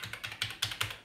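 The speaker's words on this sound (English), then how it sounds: "I love this mechanical keyboard" Mechanical keyboard of a Revision 3 Amiga 500 being typed on, crisp rapid clicky keystrokes in an uneven rhythm, close and fairly quiet, with no talking.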